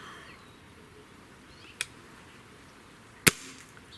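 Two sharp, isolated cracks from a Stoeger AT30 air rifle, the second louder, stand out against a quiet outdoor background with a low hiss between them.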